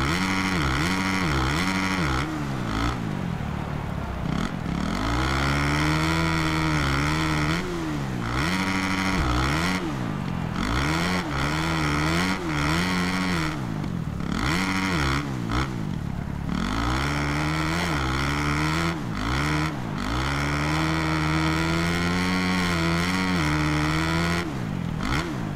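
Motocross motorcycles race at MXGP Oss in the Netherlands, engines screaming and revving hard, pitch rising and dropping through repeated shifts and jumps, loud and close for the whole stretch.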